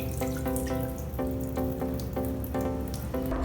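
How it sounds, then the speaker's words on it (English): Excess water poured off cooked rice while making Indian rice kheer, a steady splashing, draining rush that runs the whole time beneath repeating background music. "Throw the excess water"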